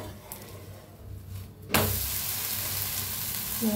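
Moong dal dosa batter sizzles loudly in oil on a hot pan, with a quieter stretch that jumps into a sharp, steady, close frying hiss partway through and holds to the end.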